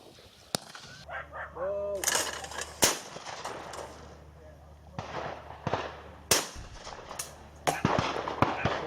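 Shotguns fire at clay targets at a Compak sporting shoot, sharp cracking reports at irregular intervals, some close and loud, others more distant, over a murmur of outdoor background voices.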